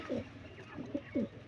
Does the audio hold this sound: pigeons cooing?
yes